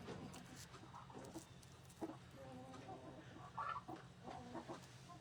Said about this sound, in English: My chickens are under the porch trying to lay eggs